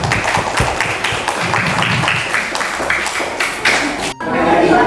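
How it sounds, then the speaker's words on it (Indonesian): A group of schoolchildren at a museum claps loudly and unevenly, with hard individual smacks and thuds over a busy room of voices, ending with a short pause before noise picks up again. "Tepuk tangan untuk kelompok 2."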